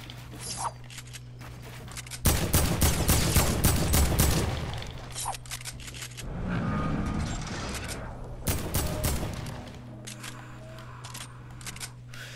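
Heavy assault rifle fire in the video game Fortnite, with two loud, dense bursts of rapid shots and a softer stretch of gunfire between them, backed by a steady low in-game hum.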